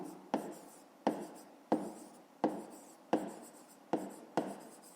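A pen writes in a notebook during a fifth-grade maths exercise, making about seven short, evenly spaced scratching strokes. Each stroke starts sharply and fades, and the room is otherwise quiet.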